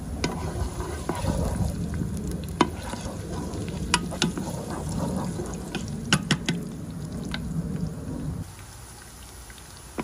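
Garlic frying in hot cooking oil, a dense crackling sizzle with sharp spatula clicks and stirring taps, dropping to a quieter fizz near the end.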